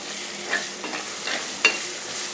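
Ginger-garlic paste, curry leaves and green chillies sautéing in a pan for a Kerala duck curry, a constant sizzle broken by several spatula scrapes and one sharp clink, close up.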